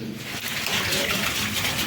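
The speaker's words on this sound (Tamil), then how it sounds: "மாடியிலிருந்து எந்த அளவு தண்ணி வந்தபடியே இருக்குது பார்த்தீங்களா" Rainwater pouring down off a rooftop during a downpour, a continuous close splashing gush with steady volume throughout.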